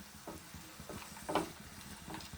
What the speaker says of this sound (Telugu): ఒక నాలుగైదు జీడిపప్పులు వేసి అంతా ఫ్రై చేసుకోవాలి